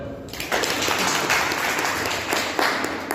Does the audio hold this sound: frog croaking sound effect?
no